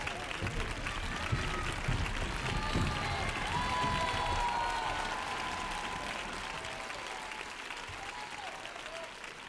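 An audience at an evening television broadcast gives sustained applause, a dense wash of clapping that swells and then slowly fades, moderately distant, with a voice faintly present beneath it.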